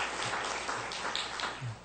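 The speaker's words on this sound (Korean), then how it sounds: "악대에게 박수 한번 해주시기 바랍니다" A church congregation at the Salvation Army Seoul First Corps applauds the band, with brief, fairly even clapping from many hands filling the room at moderate loudness.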